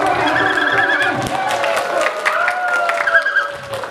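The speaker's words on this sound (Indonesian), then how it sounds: "Tepukan lagi, tepukan lagi sambil teriak." An audience at a public speaking class claps together while shouting, making a dense, continuous spatter of applause with excited voices rising over it for several seconds.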